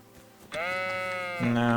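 In Kingdom Come: Deliverance II, a sheep being herded gives one long, close bleat, joined near the end by a lower overlapping voice.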